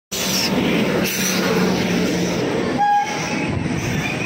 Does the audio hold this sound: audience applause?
no